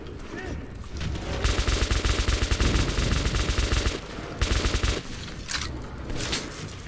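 Sustained automatic weapon fire in the video game Metro 2033 Redux, a loud, dense stream of rapid shots lasting several seconds with a brief pause before more bursts, with a faint voice underneath.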